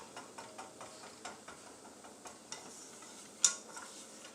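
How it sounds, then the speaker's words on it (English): A spoon keeps stirring a butter mixture in a frying pan for chicken fried steak, making soft, evenly spaced scraping taps over a faint quiet sizzle, with one sharper clink near the end. "You're probably going to be stirring this guy for quite a while."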